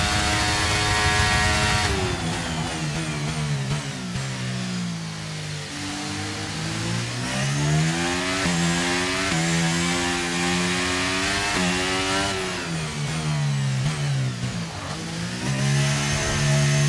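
An F1 car engine in the F1 23 video game screams and revs through a pit stop at the Miami race, the pitch rising and falling in loud sweeping surges that dip and climb again over about seventeen seconds.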